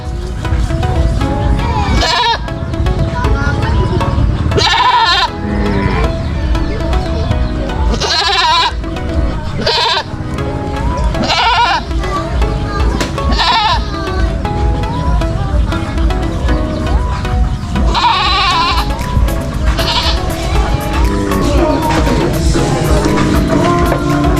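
Repeated goat bleats ring out at irregular intervals over a constant noisy background, some calls loud and close, others fainter.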